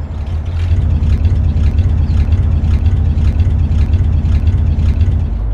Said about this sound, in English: This is an amazing, amazing truck with some absolutely great sounds to it.